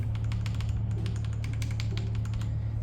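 Fingers type quickly on a new Nubwo X37 Necritz computer keyboard, producing a close, continuous run of crisp key clicks over a constant low background hum.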